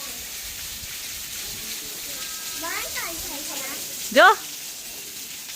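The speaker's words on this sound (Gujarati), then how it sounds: "વરસાદ આવ્યો" Rain falls steadily as a soft, even hiss in the background while a person speaks briefly over it and a louder short sound cuts in near the end.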